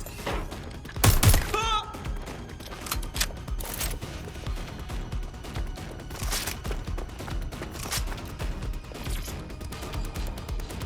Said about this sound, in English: Taking fire! I'm taking... Ah! Suspect has opened fire!